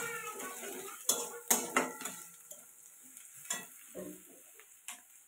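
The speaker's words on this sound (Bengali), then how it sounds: "রসুন থেতো করেছি, সেটা দিয়ে দিচ্ছি। দিয়ে নাড়াচাড়া করব।" Chopped onion and crushed garlic frying in a pan, stirred with a utensil: a steady soft sizzle runs underneath, with several sharp scraping clacks of the spoon against the pan spaced irregularly through it.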